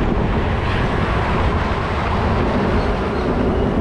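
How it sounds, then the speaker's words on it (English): A train passes close by on a city railway in Bangkok, a loud, steady broadband rumble and roar that holds for several seconds without break. "I hear the train sound."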